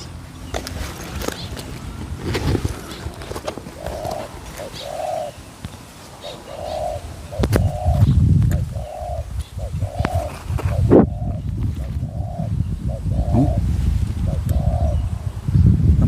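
Spotted doves coo back and forth outdoors as a decoy bird calls to a wild dove, giving a steady run of soft, evenly spaced coos with other birds chirping and faint rustling and voices nearby.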